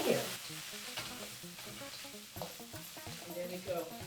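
Cooked rice gets stirred into stir-fried vegetables in a hot pan for Nigerian fried rice, with soft sizzling under repeated scraping and stirring strokes. The sound stays quiet and close throughout.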